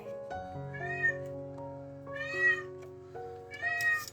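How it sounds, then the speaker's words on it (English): A cat meows in three drawn-out, rising and falling calls, close and clear, over a faint sustained musical tone in the background. "The cat's opera is closed right now."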